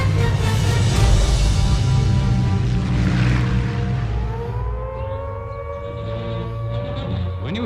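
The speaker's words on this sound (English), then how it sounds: "The siren went" An air raid siren wails loudly, its rising and falling tone sweeping over a dense rumble of engines, continuous throughout.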